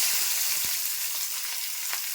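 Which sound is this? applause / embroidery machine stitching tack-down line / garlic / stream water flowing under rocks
garlic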